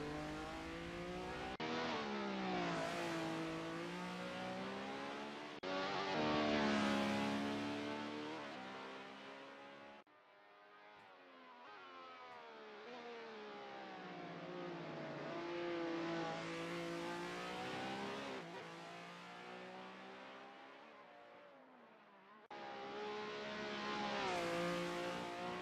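An old Ferrari race car running the Goodwood hillclimb in a sim racing game, its engine revving up and down through repeated gear changes, loud and continuous throughout with no voices.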